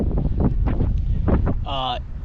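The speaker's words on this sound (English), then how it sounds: "It's really windy" Strong wind buffeting the microphone at a waterside spot in Nevada, a loud continuous roar with gusting pulses throughout, and a brief tonal whine near the end.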